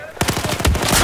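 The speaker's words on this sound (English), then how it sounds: "Oh, he's shooting people." Rapid automatic gunfire from the video game Battlefield 4, a loud continuous burst of closely spaced shots starting abruptly and running to the end.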